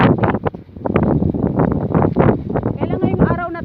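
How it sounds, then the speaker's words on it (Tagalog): Strong wind buffets the microphone in heavy, rumbling gusts while a person talks over it. "Kaya ngayong araw na to hindi ka talaga makapag-relax kasi sobrang mahangin"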